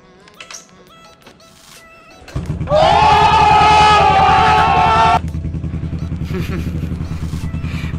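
A Yamaha SR400 single-cylinder motorcycle fires up after a moment of quiet. It roars loudly at high idle with a harsh buzzing edge, then settles into a steady, pulsing idle close by.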